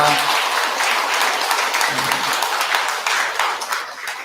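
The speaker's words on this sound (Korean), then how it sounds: "감사의 박수 한번 부탁드리겠습니다." An audience at a Buddhist service claps in thanks, a dense and steady round of applause at close range that thins slightly toward the end, with faint voices mixed in.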